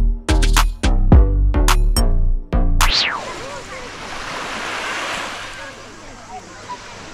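Surf washes steadily onto a Mediterranean beach, a broad, continuous roar of breaking waves that takes over after a few seconds of voices and sustained tones at the start.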